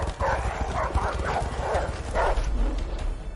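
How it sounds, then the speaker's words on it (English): Guard dogs chase the player in the video game A Way Out, with rapid scrabbling footfalls and bursts of barking and yipping running steadily throughout amid busy game noise. "this time, we're getting chased by guard dogs."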